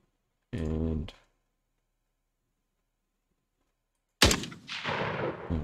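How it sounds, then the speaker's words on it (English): A single sharp rifle shot sound effect in an Unreal Engine 4 game cracks out loudly and decays with a short rattling tail, preceded by a brief voiced sound and a long silence. "my rifle fire, I'm going to get the fire cue"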